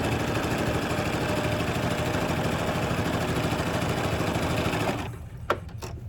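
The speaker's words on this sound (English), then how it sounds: "I'm just going to sew right across." A sewing machine runs steadily while stitching straight across patchwork quilt fabric at the edge of the presser foot, a loud continuous whir that stops near the end, followed by a couple of faint clicks.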